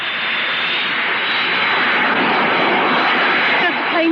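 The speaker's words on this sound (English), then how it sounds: "Does the plane always come down this fast?" A fixed-wing airplane passes overhead while descending, a steady, loud broadband engine roar filling the whole clip without pause and rising slightly toward the end.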